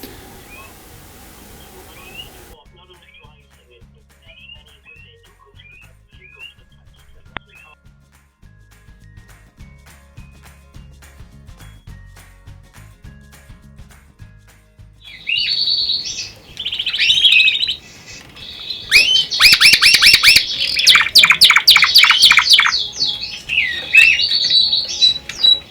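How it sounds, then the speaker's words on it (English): Quiet at first with faint distant chirps, then small birds in an aviary break into loud, busy chirping and squawking close by, overlapping in rapid bursts. "I'm trying to encourage the birds to fly up and down and round the aviary"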